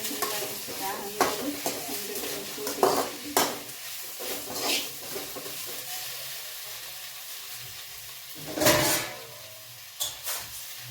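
Food frying in a pan while cooking mustard greens curry (massoppu saaru), with a steady sizzle under repeated stirring scrapes and metal clinks against the pan, close by and without talk.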